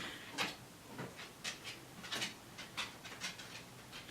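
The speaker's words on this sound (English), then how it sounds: "Forgive me for the sound of my dog's toenails hitting the wood floor." A dog's toenails click and tap on a wooden floor indoors, a dozen or so sharp, light ticks in an uneven walking rhythm, fairly close against a quiet room.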